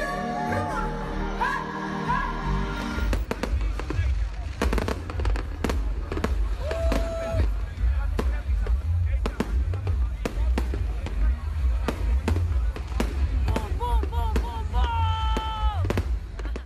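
Fireworks burst repeatedly at a seaside concert, with many sharp booms and crackles in an irregular, near-continuous barrage, and people talk and call out underneath.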